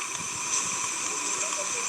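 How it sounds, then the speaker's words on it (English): Water flowing steadily after a disaster, past a wall holding back floodwater in foggy conditions; a continuous broad rushing wash with small splashy gurgles, close and fairly loud, with no talk. "See here, water is flowing."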